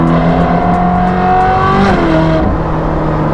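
A car accelerating hard with a loud, steady engine drone that climbs in pitch, then one quick gear shift drops the revs before the engine pulls again, close and continuous with no talk.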